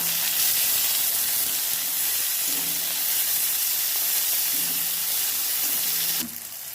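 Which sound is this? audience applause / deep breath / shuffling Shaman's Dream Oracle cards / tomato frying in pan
tomato frying in pan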